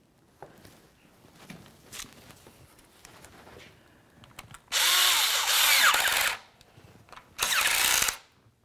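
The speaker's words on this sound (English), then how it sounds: "Put your clamp in its original position and snug it up." A power tool driving a hose clamp tight on the lower radiator hose of a 2004-2015 Nissan Titan: faint clicks and handling first, then two loud whirring bursts of about one and a half seconds and under a second.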